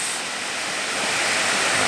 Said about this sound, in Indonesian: air terjun Pumbunga